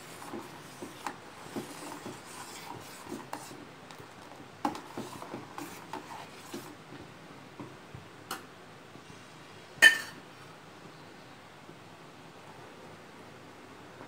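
A spoon stirs sugar into milk in a pot on the stove for homemade paal ice, giving sparse, light clinks and scrapes against the metal over a quiet background, with one sharper knock near the end.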